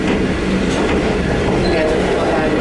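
A train rolls along its rails with a continuous rumbling drone and faint clattering, heard from inside the carriage, while voices murmur underneath.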